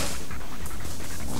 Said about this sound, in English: Silly dog to go nuts in the background there